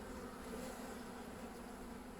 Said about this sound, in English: there's a whole pile of bees actually underneath